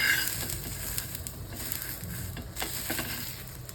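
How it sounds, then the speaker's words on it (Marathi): Fresh tur (pigeon pea) pods dry-roast in a pan without oil, a soft crackling hiss broken by faint rustling scrapes as they are stirred, close and steady. "आता नुसतंच भाजून घ्यायचं आपल्याला तेल वगैरे काही टाकायचं नाही आहे थोडेसे डाग पडेसपर्यंत भाजायचं"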